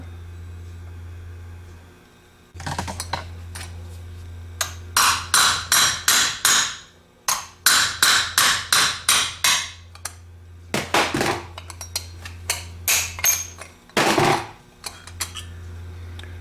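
A hammer strikes a metal extension in quick bursts of sharp, ringing taps while a vintage Chrysler starter is being rebuilt, several runs of rapid blows separated by pauses over a low steady hum.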